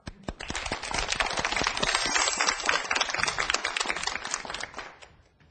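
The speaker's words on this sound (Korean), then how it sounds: "자, 박수로 강의 청해 듣도록 하겠습니다." Dense audience applause in a Korean TV studio lecture setting, many hands clapping loudly and steadily for several seconds before tapering off at the end.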